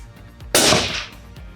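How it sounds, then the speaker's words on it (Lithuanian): A single .243 caliber rifle shot fired at an outdoor shooting range, comparing suppressed and unsuppressed fire, rings out as one sharp, loud, close crack with a short decaying tail. "Ir dabar Osvaldas paleis 2 šūvius"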